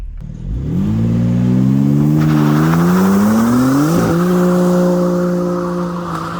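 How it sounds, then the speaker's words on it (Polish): A BMW M3 Touring Competition G81 with its 510 hp 3.0 straight-six, sliding sideways in rear-wheel-drive mode, revs hard and climbs steadily in pitch with a brief shift-like dip midway, loud and close throughout without talk. "No auto lata bokami jak szalone."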